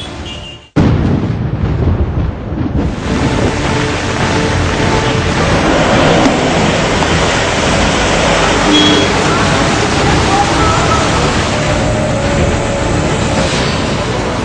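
Rainwater flooding a town street in Bhiwandi near Mumbai, a steady broadband rush of moving water that starts suddenly and continues loud and unbroken, with a faint rumble of traffic mixed in.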